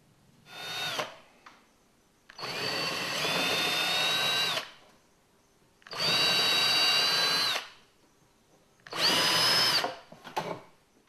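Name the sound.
power drill opening screw holes in a removable car panel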